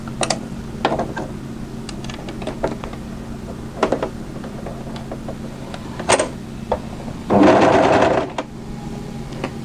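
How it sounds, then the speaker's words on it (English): An overlocker sews elastic into a dress seam, a soft whirring run with mechanical clicks and knocks of fabric handling, one louder continuous burst near the end, close and fairly quiet. "what we need to do is overlock this into position, stretching to fit"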